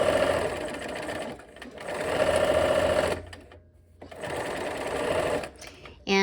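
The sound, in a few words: sewing machine sewing quilt block strips together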